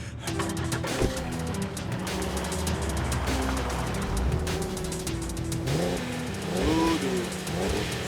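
A car revs and accelerates nearby as it is brought up, the engine loud and continuous with tire noise, over a busy, dramatic scene.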